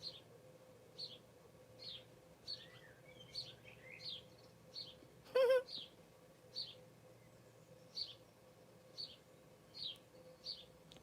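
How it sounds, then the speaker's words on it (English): Birds sing outdoors with repeated short high chirps spaced about a second apart, moderately distant, over a faint steady hum, with one brief louder flutter near the middle. "listening to the birds"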